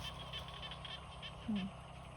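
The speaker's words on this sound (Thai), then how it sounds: "มาฟังเสียงกบเสียงเขียบ" Frogs croak in rice fields at evening in rural Isan, Thailand, a faint steady chorus of rhythmic calls with one louder low croak rising briefly above the soft background.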